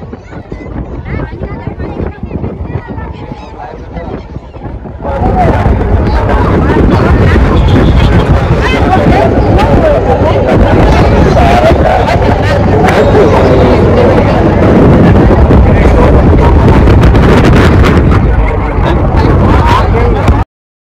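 A boat crossing from Dwarka to Bet Dwarka, with strong wind buffeting the microphone, an engine droning and passengers chattering; the wind and rumble swell sharply partway through and stay loud until a sudden cutoff.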